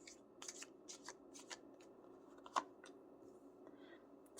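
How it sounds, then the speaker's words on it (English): Tarot cards riffle and slap softly in a quiet room as they are shuffled and pulled, several quick close-up bursts of papery flutter, with a brief louder snap partway through. "Let's pull some more cards."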